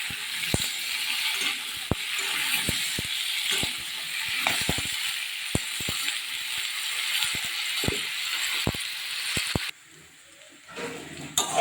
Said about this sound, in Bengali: আমার তেলটা গরম, আমি আলুটা দিয়ে দিচ্ছি।